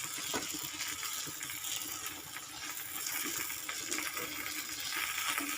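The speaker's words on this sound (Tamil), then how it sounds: "மீன் போட்டு குழம்பு ஒரு கொதி வரட்டும்." Fish is added to a boiling Tamil fish curry (meen kuzhambu), giving a steady bubbling, hissing simmer with soft crackles throughout at close range.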